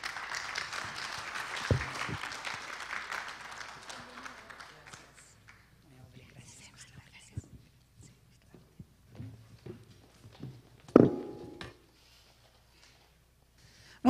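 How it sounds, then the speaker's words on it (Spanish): An audience at a mission conference breaks into applause, a spread of clapping that swells early on, thins into scattered claps and shuffling, then ends with a few sharp, louder bursts. "Démosle un fuerte aplauso"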